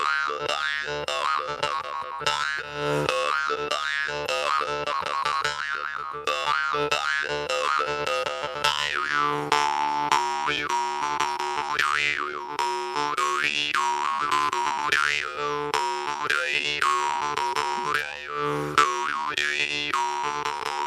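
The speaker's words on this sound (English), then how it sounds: "The jaw harp is an instrument of expression." A jaw harp twangs continuously with a steady drone beneath and wah-like vowel sweeps that rise and fall in rhythm, played live, close and fairly loud, with no talking over it.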